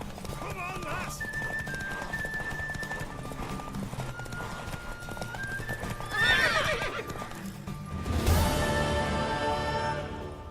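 A mare neighs loudly in The Witcher 3 as galloping hooves pound close by during a horse race, with game voices and crowd noise around it.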